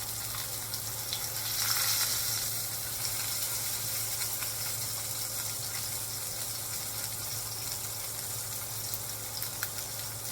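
Steady, close sizzling of salmon frying in a hot pan, a continuous crackling hiss with no talking.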